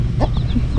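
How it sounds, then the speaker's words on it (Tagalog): Chicken clucking in a short burst of a few notes, fairly close, beside a laundry area where washing in a basin is about to begin, with steady background noise and no talk. "Ngayon yan, may manok dito"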